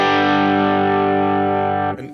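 Electric guitar with P90 pickups played through a Holy Fire drive pedal, a single sustained chord ringing out loud and steady for about two seconds before being cut short.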